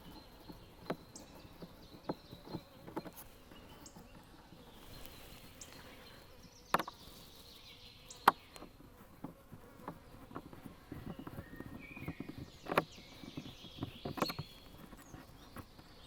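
A small honey bee swarm buzzes faintly in the open, with a low hum and scattered close passes of individual bees flying by.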